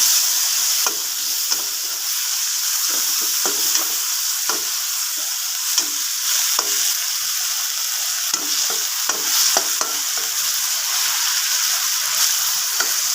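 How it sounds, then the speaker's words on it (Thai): Pork belly stir-fried in a pan with fish sauce and oyster sauce for stir-fried kale, a continuous sizzle punctuated by frequent close scraping and tapping of a spatula, no voices. "แล้วก็ซัสหอย ผัดให้เข้ากัน"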